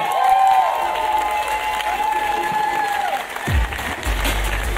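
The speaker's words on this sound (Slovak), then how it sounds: "Veľký potlesk." A crowd at a Slovak podcast awards ceremony breaks into sustained applause after the podcast of the year is announced, steady and full throughout, with a tone ringing briefly in the first seconds.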